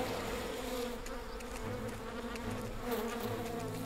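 Giant hornets and honeybees buzzing together in a dense, continuous swarm drone, steady and close with layered wingbeat tones and no talk.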